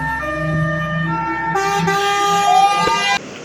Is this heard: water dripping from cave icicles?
no